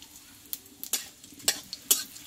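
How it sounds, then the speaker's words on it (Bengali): A tempering of bay leaf, two dried red chillies and whole cumin frying in mustard oil, with light sizzling under several sharp spatula scrapes and clinks against the pan, close and fairly quiet. "ফোড়নটা একটু ভেজে নেব"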